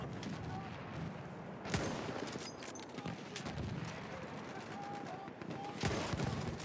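Machine gun fire in the World War I shooter Battlefield 1, steady rattling bursts with a few louder booms, heard at mid distance over a constant battlefield din with no voices.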